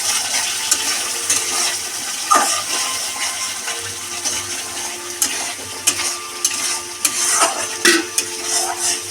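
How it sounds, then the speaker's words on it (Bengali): Water poured into a pan of spice paste cooked down in oil for a tilapia mustard-poppy seed curry, a steady rushing pour with faint clinks and splashes throughout. "এবার পানি দিয়ে দেবো বন্ধুরা"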